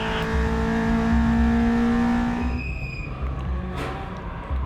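A race car in a racing video game keeps driving after a crash, its engine droning with steady high harmonics, then the note drops and the roar thins out toward the end.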